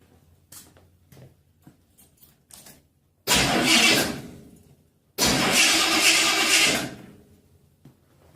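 A Chevy starter motor cranks in a short loud burst, then cranks again and the engine catches and runs briefly, close by after a few quiet clicks.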